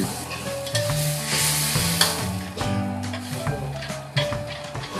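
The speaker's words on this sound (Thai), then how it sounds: "นำกะทิลงไปเคี่ยวให้เดือด" Coconut milk cooks down in a pot for a Thai crab curry, sizzling and bubbling loudly up close while a utensil stirs and scrapes in uneven strokes, and a low hum runs underneath.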